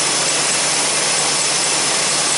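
A vehicle engine, freshly started after a transmission install, runs and idles nearby, giving a loud, steady, broadband roar with no talk over it.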